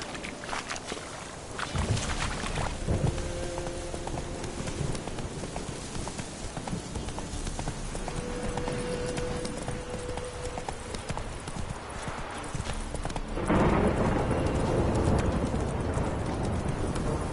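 Roach, a horse in The Witcher 3, gallops in a long rapid rhythmic clatter of hooves that is loud and close, with faint tones and other game sounds beneath, growing fuller near the end.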